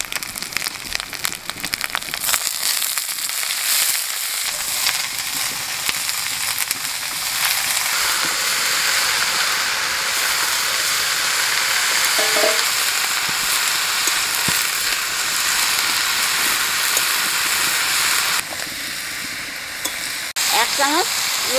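Shredded cabbage frying in a pan with ground ginger and green chili, dried red chili, bay leaf and cumin: a continuous loud sizzle with repeated scraping stirs that quiets briefly near the end.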